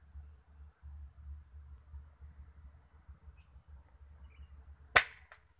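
A single sharp air-rifle shot fired at a target while hunting wild zebra doves outdoors, a close, loud crack near the end after several seconds of low rumbling background.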